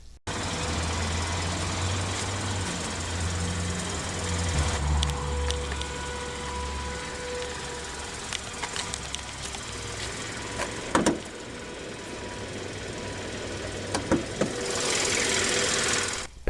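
A 2015 Kia Optima EX's 2.4-liter naturally aspirated inline-4, the Theta 2, runs steadily at idle with a low, even drone, a few brief clicks and knocks, and a rise in hiss near the end.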